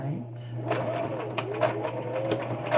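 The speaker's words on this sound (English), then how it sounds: "This is my mom's sewing machine. That's not supposed to sound like that." A home sewing machine stitching the back of a homemade doll's head, running with an odd mechanical clatter over a steady low hum. Faint talk and rustling sit under the machine.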